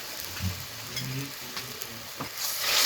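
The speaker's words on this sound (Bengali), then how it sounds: "মশলাটা ভালো করে কষিয়ে নেব" Ground chili and turmeric powder with salt frying in oil for a prawn and bottle gourd dish, a dense close sizzle with a few stirring scrapes.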